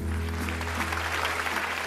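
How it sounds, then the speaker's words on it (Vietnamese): A studio audience at a singing show applauds the judges with steady, continuous clapping at moderate distance, backed by a low electrical hum. "Xin cho một tràng pháo tay cho các vị giám khảo ạ."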